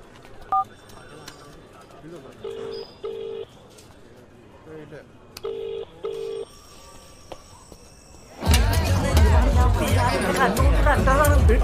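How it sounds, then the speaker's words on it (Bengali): A phone ringing in a dramatic film scene, short repeated electronic ring bursts in a regular pattern, moderately loud, then giving way to a busy stretch of louder mixed sound. "ফোন এসছে।"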